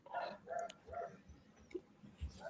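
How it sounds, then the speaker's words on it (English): Dog barking indoors during a livestream, several faint, evenly spaced barks followed by a softer yip toward the end. "The dog was barking."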